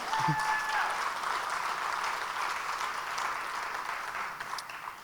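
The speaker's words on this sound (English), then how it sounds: "Yeah, we can clap for that, please." An audience in downtown York breaks into steady, moderately distant applause that holds evenly for several seconds before thinning slightly near the end.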